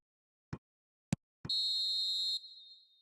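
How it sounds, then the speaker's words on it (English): In an eFootball video game match, the referee's final whistle sounds as a long, bright whistle blast of about a second after three short taps, then fades into reverberation. "And there goes the final whistle."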